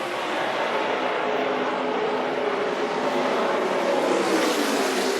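NASCAR Camping World Truck Series trucks racing at Iowa Speedway in 2017, their engines a loud, steady, continuous roar as the pack runs together at speed, with no talk.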